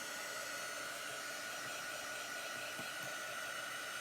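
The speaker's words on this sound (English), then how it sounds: "if you want to speed the process up, just use a hairdryer" A hair dryer blows unheated air to dry chalk paste, a steady, loud whooshing hum that holds constant throughout with no pauses.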